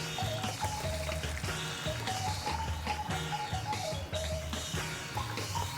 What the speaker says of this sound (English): if you see that nice hard sizzle, that's kind of a good sign